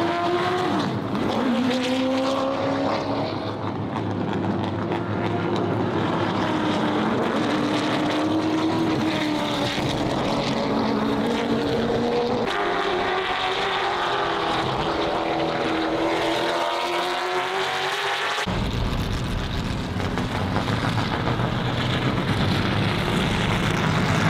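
Late model race cars practise at Langley Raceway, their loud engines roaring and droning in continuous passes. The pitch shifts up and down as the cars circle, and a car sweeps past close by near the end.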